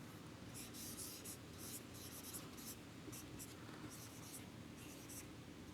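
Equation being written by hand on a board, a soft scratching and tapping of strokes in short bursts over a steady low room hum, fairly faint.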